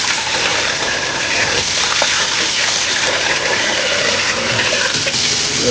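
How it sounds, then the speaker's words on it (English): Running water gushes steadily over chicken liver being washed, a loud, continuous splashing rush with no pauses or voices. "let's go ahead and wash this liver off."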